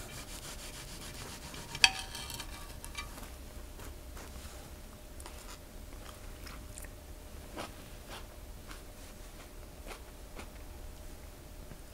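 Close, crisp crunching and chewing of a crunchy green zebra tomato repeats at irregular intervals, with a sharp bite near the start, over a quiet background without speech.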